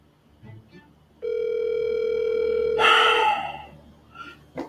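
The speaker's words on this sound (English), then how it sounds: "Answer the phone." A telephone ringback tone plays in a steady tone that starts abruptly, while another call-type signal and a brief burst of noise overlap near the end, followed by faint background sounds.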